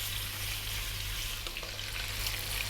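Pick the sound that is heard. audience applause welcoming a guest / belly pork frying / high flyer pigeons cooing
belly pork frying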